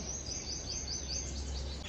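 Crows and mynas chirp and call repeatedly in the open air, a busy scatter of calls with a steady background hum.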